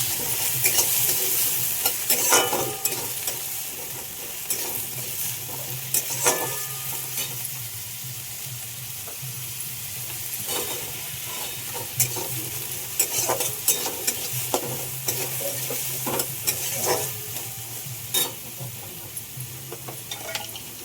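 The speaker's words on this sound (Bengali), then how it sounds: "আলুগুলো একটু ভেজে নেব।" Potatoes fry in a pan with a little salt, sizzling steadily while a utensil stirs and scrapes in repeated bursts, close and clear with no talk.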